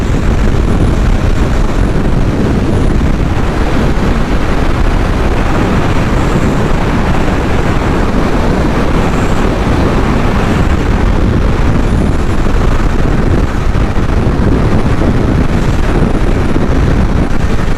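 Steady, loud wind buffeting the microphone while riding outdoors on a windy, hot day, a continuous low rumble with no pauses or voices.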